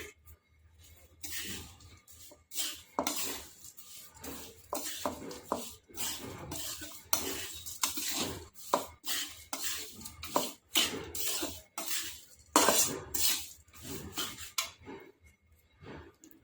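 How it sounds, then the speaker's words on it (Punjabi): A spoon stirs ground dry fruit into flaxseed panjiri in a pan, producing repeated scraping and clinking strokes against the metal at a steady, fairly quiet pace throughout. "ਪੀਸਿਆ ਹੋਇਆ ਡਰਾਈ ਫਰੂਟ ਨੂੰ ਆਪਾਂ ਮਿਕਸ ਕਰ ਲਵਾਂਗੇ"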